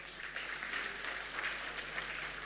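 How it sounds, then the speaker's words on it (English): A crowd at a Nigerian federal government ceremony honoring the D'Tigress women's basketball team breaks into steady, dense applause, a continuous wash of clapping held at an even, moderate level throughout with no talk over it. "let's give him some round of applause."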